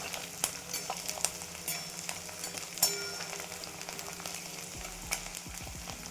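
Onion and green chili fry in a pan with a steady crackling sizzle, broken by sharper pops and the occasional scrape of stirring.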